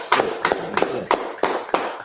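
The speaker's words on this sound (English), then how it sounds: "Round of applause for justice" Members of a congregation at a Sabbath service clap in a slow, even rhythm, each clap sharp and close, about seven claps in two seconds.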